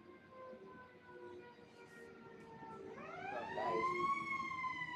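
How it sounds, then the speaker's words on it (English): A fire engine siren starts with a wailing tone, then rises sharply in pitch and grows louder as it draws nearer, sustained over a low background rumble. "Fire engine just gone off."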